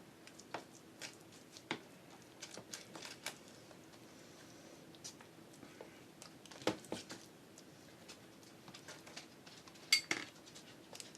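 Knife clinking and scraping against a metal tin while banana flapjacks are cut into slices, a series of light taps and clinks at an irregular pace, close and fairly quiet.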